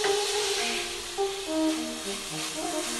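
Swordfish and other ingredients begin cooking in a hot pan, giving a steady sizzling hiss at fairly close range, with no voices.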